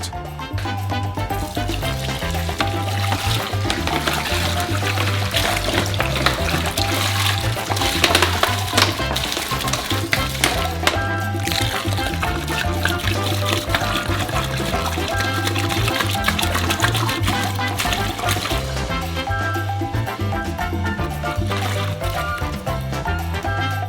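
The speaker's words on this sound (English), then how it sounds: "But now you will need a lot of water, 70 liters." Steady, continuous rush of water pouring into a large basin for a 70-liter giant gummy worm mix, constant and fairly loud throughout, with a low hum underneath and no talking.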